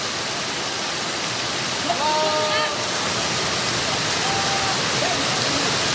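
Heavy rain pours outdoors in a dense, steady roar that stays loud and even throughout, with faint brief tones showing through the wash.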